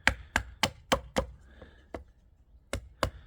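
A knife or hatchet chops at a piece of wood to carve a makeshift spoon outdoors, giving about nine sharp, close knocks in an irregular rhythm with short pauses, no speech.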